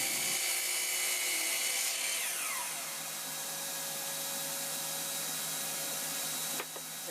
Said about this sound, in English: I'm now cutting a piece of walnut down to hold the napkins.